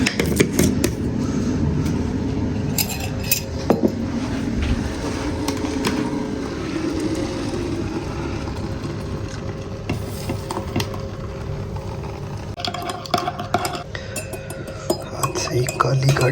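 A metal spoon beats instant coffee in a cup, a near, steady scraping and clinking that runs throughout, with a low background hum and occasional knocks.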